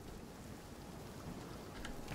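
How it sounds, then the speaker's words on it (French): Heavy rain in the Nightingale video game, a faint, dense hiss of falling water with a few brighter splashes near the end, no talking. "Pleut sévère."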